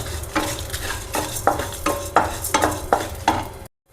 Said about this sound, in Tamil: இதில் நம்ம எடுத்து வச்சுருக்க உளுந்து, அதுக்கப்புறம் காஞ்ச மிளகா ரெண்டுத்தையும் போட்டு நல்லா செவக்க வறுத்துக்க போகிறோம்